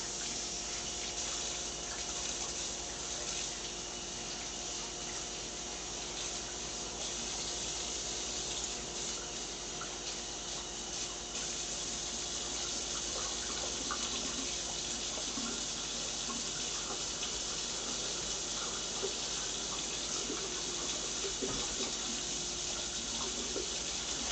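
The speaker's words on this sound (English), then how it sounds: "Give it a little rinse here first." Tap water runs steadily over greens being rinsed in a kitchen sink, a continuous close splashing stream with no talk.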